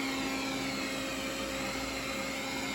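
A Roborock S5 robot vacuum runs with a steady, even whirring drone and a constant motor whine, close by and unbroken for the whole stretch.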